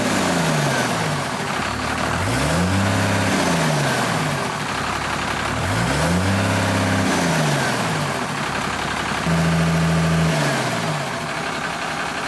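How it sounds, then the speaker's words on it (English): A frost-damaged Cummins diesel engine is revved three times from idle, each rev swelling and falling back, with the turbo spinning audibly; close and steady with no talk. "Turbo spinning as well when I rev it"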